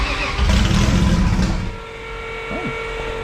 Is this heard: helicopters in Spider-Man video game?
no